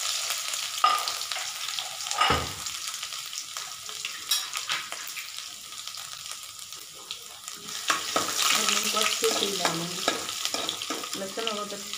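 Garlic and ginger frying in a pan for bathua saag, with a light sizzle and a spoon stirring and scraping, plus a few clinks and some running water nearby.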